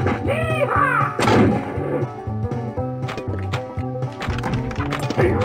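Gunshot effects from a Pistol Poker pinball game ring out amid busy machine music, clip-clopping hoof sounds and a character's voice, with sharp shots near the start and scattered bangs throughout.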